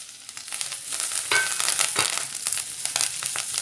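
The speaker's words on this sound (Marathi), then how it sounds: "आता आपण टाकून घेतो त्याच्यात लसूण, आलं, हिरवी मिरची आणि कोथिंबीर, आणि त्याच्याच बरोबर टाकतोय आपण घेतलेले खडे मसाले" Garlic, ginger, green chilli, coriander and whole spices sautéing in hot oil for a spicy Nashik-style kat vada rassa, a loud dense crackling sizzle throughout with stirring scrapes, no voices.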